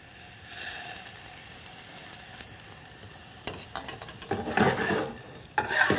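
White wine poured over shallots in a hot pan, a quiet sizzle that suddenly flares into loud crackling and spattering, with stirring and clinks of a utensil against the pan nearby.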